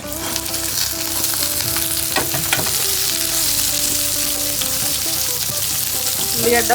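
Onion frying in a pan as part of cooking a spicy bitter gourd dish with tamarind, a steady close sizzle with occasional stirring clinks throughout, no talking.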